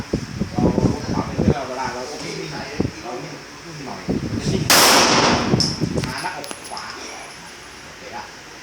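A single loud, sharp pistol shot at a shooting practice range, ringing briefly, while someone speaks before and after it.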